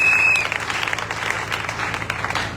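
A church congregation applauds to acclaim the Lord, with dense, lively clapping from many hands that runs steadily for a couple of seconds after a brief tone at the start.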